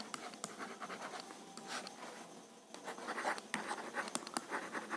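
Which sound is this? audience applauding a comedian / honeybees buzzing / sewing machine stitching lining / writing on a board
writing on a board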